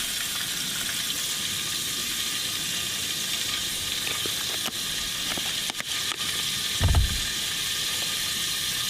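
Mackerel fillet, seasoned with salt, pepper and paprika, fries steadily in a pan after being caught from the shore, a constant close sizzle broken by a few brief clicks and one low thump near the end.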